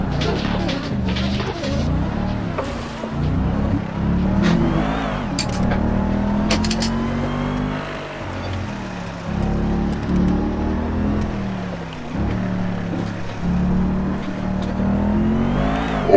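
Rally car engine revving and surging through a chicane on a stage, a loud continuous drone whose pitch repeatedly climbs and drops with throttle changes, and excited voices talking over it.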